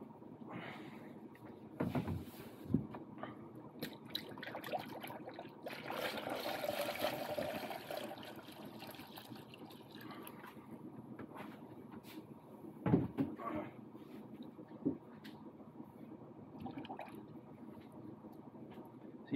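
Coolant spurting from the cooling system of a Jeep Grand Cherokee WJ as air is bled out, heard as quiet wet gurgles and trickles broken by a few short sharp spurts and knocks, with no one talking.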